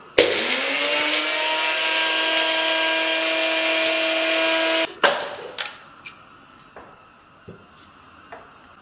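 A mixer grinder grinds roasted masala spices for masala tea, its motor whining loud and steady for about five seconds before cutting off, followed by a few faint clatters and knocks.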